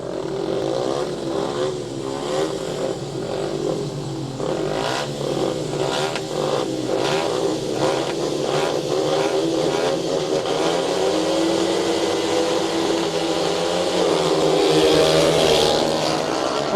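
Speedway motorcycles roar away from the start gates in a race, a loud, continuous engine howl with rising revs and layered bikes sustained throughout.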